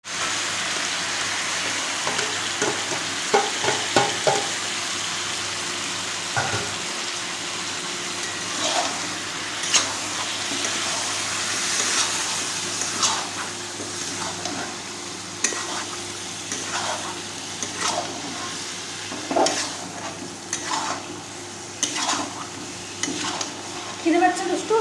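Chicken fries with a paste of onion, garlic, ginger, tomato and cumin. The hot pan sizzles and hisses steadily while a utensil stirs and scrapes intermittently, and a voice is heard faintly now and then.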